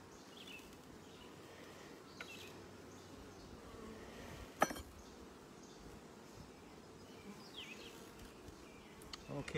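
Honeybees hum around an opened beehive during brood comb inspection, a continuous soft buzzing drone with a brief sharp click midway and faint background murmurs.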